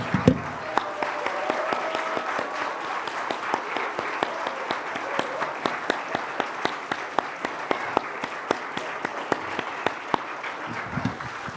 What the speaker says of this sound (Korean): 축복의 박수를 한번